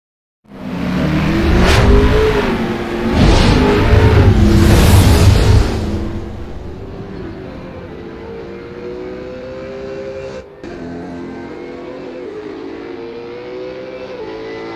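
A Supercars race car in a racing video game at Barbagallo Raceway, its engine screaming at full throttle across the start line. The engine is loud and close, rising and shifting through gears, then settling into a steadier high drone.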